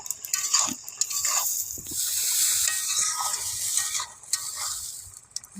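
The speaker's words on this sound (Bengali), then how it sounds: "বাটাটার উপরে অল্প করে জল দিয়ে সুন্দর করে নেড়ে নেব।" A spatula scrapes and stirs a curry in a pan with ground cumin and chili paste loosened with a little water, giving irregular close scraping strokes over a soft, wet sizzle.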